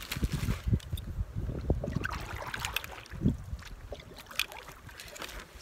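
Canoe paddling along a river in Algonquin Park, with soft paddle strokes and gentle water dribbles recurring irregularly, close by, beneath light wind buffeting the microphone.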